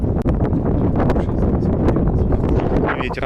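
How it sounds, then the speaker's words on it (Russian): Strong night wind buffets the microphone on a street in Alanya in July heat, a dense, loud roaring rumble with gusty fluctuations throughout. "Ветер."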